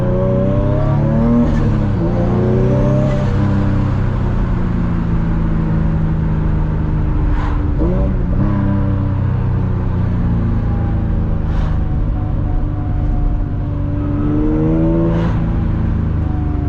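A loud turbocharged Nissan 350Z engine revving and droning continuously from inside the car, with rising and falling pitch as it accelerates, plus occasional sharp whooshing bursts.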